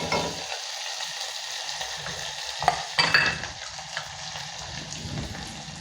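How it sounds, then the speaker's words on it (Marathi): Garlic and fresh coriander fry in a pan with a steady low sizzle while a spoon stirs them, giving a few clinks and scrapes near the middle. No one speaks. "थोडंसं हलवायचं"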